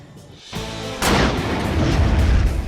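A loud explosion staged to make industrial diamonds, an attempt to reproduce the pressure and heat at the Earth's core, hits as a sharp blast and leaves a broad, roaring rumble that fills the rest of the clip.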